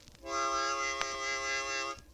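A harmonica holds a sustained, bright chord while cupped hands open and close around it as a sound chamber, giving the tone a gentle wah-like swell; a faint click sounds midway, with no talking.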